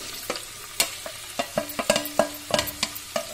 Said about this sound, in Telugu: అప్పుడు ఈ టమాటా ముక్కలు అన్ని కూడా దీనిలో వేసుకోవాలి